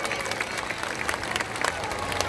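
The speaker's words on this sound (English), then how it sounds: "How about a nice round of applause for our volunteers?" Audience at a SeaWorld San Diego killer whale show applauds volunteers, steady crowd clapping with scattered cheers filling the open-air stadium at moderate level.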